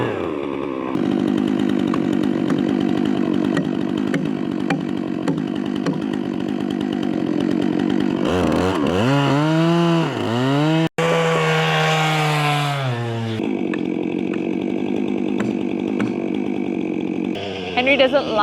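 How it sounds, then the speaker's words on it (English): A chainsaw cuts logs for farm fence posts outdoors, roaring loud and continuous with the engine rising and falling in pitch through cuts and revs, plus a brief sharp break in the middle; voices talk over it at times. "He knows it's dangerous, so we need to stay really far away when the chainsaw's on."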